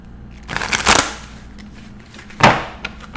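A deck of tarot cards being shuffled for a reading, two crisp riffling bursts about a second and a half apart, close and fairly loud, with no talk.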